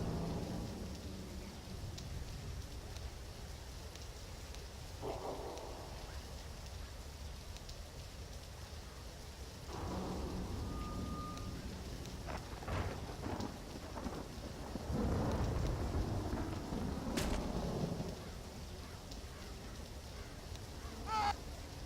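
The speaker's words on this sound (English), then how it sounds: "This rain, just this obnoxious rain, it makes it sound like it's coming from everywhere around me here." Steady rain in the Left 4 Dead video game, a continuous wash of rainfall heard throughout with scattered brief clicks and thumps, some louder stretches near the end, and no talking.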